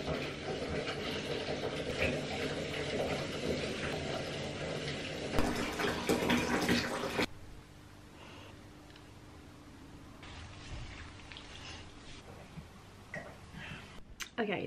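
A bathtub filling from the tap, a loud steady rush of running water for several seconds that then stops, leaving a quiet room with faint clicks and a voice talking.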